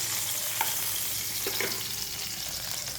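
Half-cooked brinjal frying in oil in a pan, a steady moderate sizzle with a few soft stirring scrapes of a spatula.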